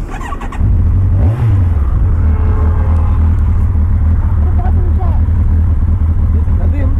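Kawasaki Versys 1000 inline-four touring motorcycle on a test ride, its engine droning loudly and steadily with a brief rev swell early on, under wind rumble and some talk.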